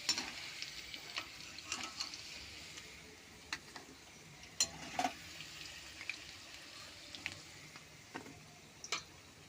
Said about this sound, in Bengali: মশলাটা ভেজে আমি তুলে নেব